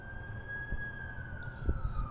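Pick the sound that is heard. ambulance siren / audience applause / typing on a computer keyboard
ambulance siren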